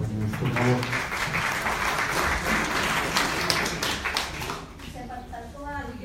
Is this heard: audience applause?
yes